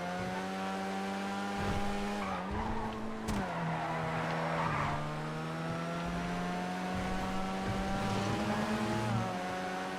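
Engine note of a fast sleeper car driven in GTA FiveM, a steady sustained drone that shifts pitch with gear changes and throttle, loud and close with brief tire noise, no talking.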